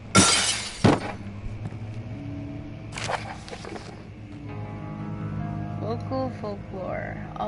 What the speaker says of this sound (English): That is not how you break the glass.